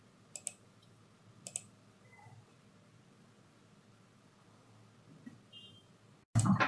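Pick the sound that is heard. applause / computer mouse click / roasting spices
computer mouse click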